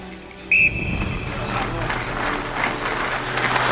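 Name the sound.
coach blowing a whistle at hockey practice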